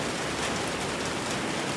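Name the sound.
rain falling on a gazebo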